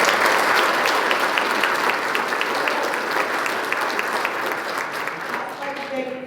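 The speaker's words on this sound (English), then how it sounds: "So go ahead and give them a round of applause." Dense, steady audience applause fills a room at a high school football awards night for the 2021 Piqua Indians, holding loud throughout and easing only slightly near the end.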